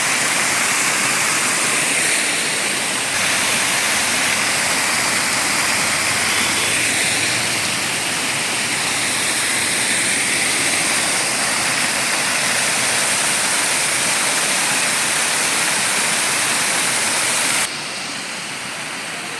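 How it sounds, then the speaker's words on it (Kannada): Small waterfalls in a forest roadside setting, a constant loud rushing wash of falling water that fills the whole scene evenly, close by, with no talking over it. "so wonderful small waterfalls"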